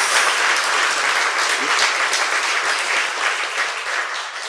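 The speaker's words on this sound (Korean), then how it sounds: "박수 부탁드립니다" A studio audience at a live Korean talk show breaks into loud, sustained applause, a dense, steady wash of clapping that holds for several seconds.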